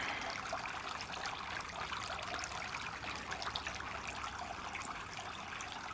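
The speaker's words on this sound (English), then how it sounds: "A water fountain is going" Steady trickling water runs continuously, a soft even splashing like a small fountain, with no voices.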